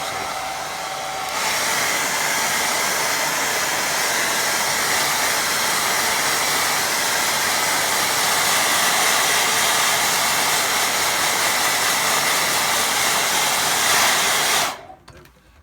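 A hair dryer on low heat blowing over a large watercolour painting, a loud continuous whooshing hum that runs steadily for about fourteen seconds before cutting off abruptly.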